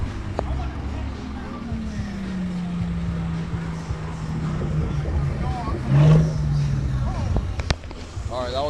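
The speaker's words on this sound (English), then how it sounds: "LT1 Ghost right here. Tearing shit up with this two-step" An LT1 Ghost car on two-step launch control revs loudly at a car show open house, with a rising engine drone and sharp popping bursts over crowd chatter and voices.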